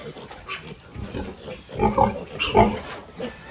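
Pigs and piglets grunt in a pen, a few low bursts of grunting rising midway at moderate distance over a faint background hum.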